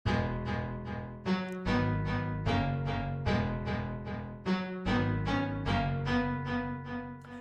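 Sawtooth synth chords run through the Filterverse filter plugin in a rapid rhythmic pattern of pulsing, filtered stabs with shifting tone. The sound is smooth and continuous, close and clean, with no talking.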